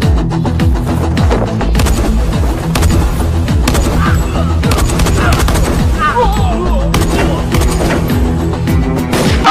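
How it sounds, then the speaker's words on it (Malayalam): Bursts of gunfire ring out in a Malayalam film fight scene, dense and loud, layered over a pounding music score with crashes and impacts throughout. "ആരാണ് അങ്ങോട്ടും ഇങ്ങോട്ടും വെടിവെച്ചത്?"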